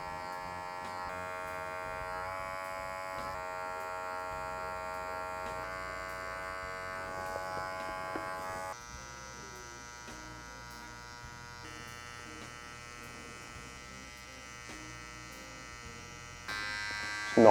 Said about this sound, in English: Notch with a bit of clipper over comb